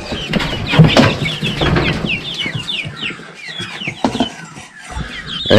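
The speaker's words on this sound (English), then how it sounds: "it's a mix of chicks in there" A brooder of mixed chicks, barred rocks and barnyard mix, keeps up a dense, continuous chorus of high cheeps and soft clucks close by, with scattered rustling and handling noise underneath.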